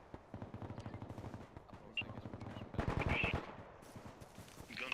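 Video game machine gun fire laying down suppressing fire: rapid bursts of automatic shots, repeated in steady runs at moderate distance, with heavier overlapping fire toward the end.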